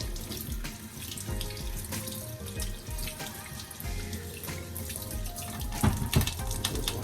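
Ginger being rinsed and rubbed under a running kitchen tap while preparing a Jamaican sorrel drink; a steady, close stream of water splashes continuously into the sink with faint handling noises.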